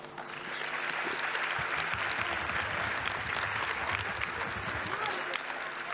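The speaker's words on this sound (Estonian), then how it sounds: "Aplaus kõikidele koorijuhtidele ja koorijuhatajatele." An audience at a spring festival choir concert applauds the choir conductors, dense sustained clapping from a crowd in a hall, starting quickly and holding steady for several seconds.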